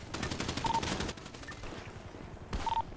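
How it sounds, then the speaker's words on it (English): Rifle fire from shooters perched atop a white wall, rapid bursts of fairly faint cracks, with a burst at the start, a pause, and another burst near the end. "They're on top of the wall shooting."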